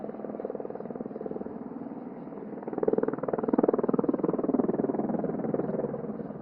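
Helicopter flying over snowy Chamonix mountains for preventive avalanche triggering, its rotor giving a fast rhythmic thumping chop over an engine drone at moderate distance, swelling slightly louder midway; no talking.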